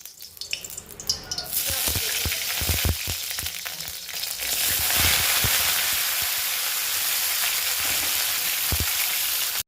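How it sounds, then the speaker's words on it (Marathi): Eggplant shallow-fries in a pan, starting with scattered knocks and clatter as pieces go in, then settling into a loud, steady, close sizzle. "माझी वांगी व्यवस्थित शालो फ्राय झालेत आणि त्याचा कलर बदलला"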